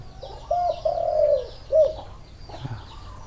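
A spotted dove gives a soft, low cooing phrase of a few notes, fairly close, with faint bird chirps and background noise around it.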